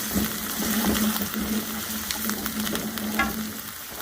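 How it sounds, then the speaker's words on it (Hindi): Onion and ground garlic fry in a pan with a continuous close sizzle and crackle, a faint steady hum underneath and occasional stirring clicks; nobody speaks. "अब इसमें हम ये गार्लिक को पीस लिया था वो ऐड कर दिया। इसको सिर्फ 1 मिनट के लिए हम भूनेंगे।"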